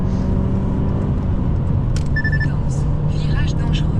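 From inside an Alfa Romeo 159 with a 1.9 JTS petrol engine on a test drive, a steady, close engine drone and road rumble hold constant while someone talks over it.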